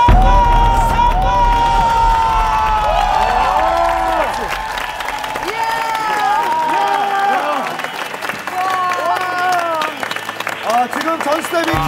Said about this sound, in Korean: 스타분들도 기립박수를 보내고 있습니다